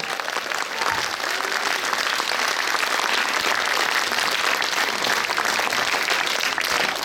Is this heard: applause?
yes